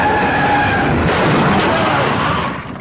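Two cars racing toward each other at extreme speed with tires skidding, a loud broadband roar and screech that stays steady up close before dropping away at the very end.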